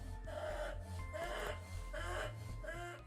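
An overheated dog gasps and pants in laboured, rhythmic heaves, about four rasping, wheezy breaths close to the microphone, with no talking over them.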